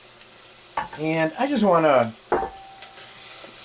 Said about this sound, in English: to saute this a little bit and just sweat these down